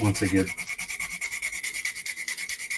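Sanding sticks rubbing along a raised seam lip on a plastic scale model during seam cleanup, a steady close scratchy back-and-forth rasp in even rhythmic strokes, with a brief spoken phrase at the start.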